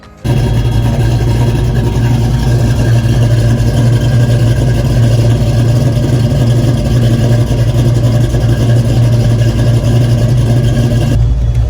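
331 stroker Ford Foxbody Mustang V8 running steadily, a loud continuous rumbling engine drone close by that starts abruptly and cuts off near the end, with no voices.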